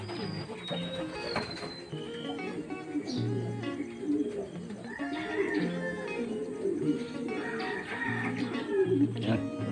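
Pigeons coo softly in repeated low throaty calls, with a few higher chirps and faint background noise throughout.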